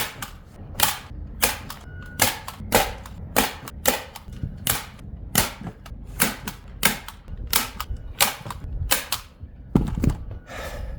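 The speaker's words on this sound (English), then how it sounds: "I'm just going to staple all the way around." A hand stapler fires staples around the corners of RV roof trim, a sharp close clack repeated at a fairly steady rhythm, roughly twenty shots with no talking.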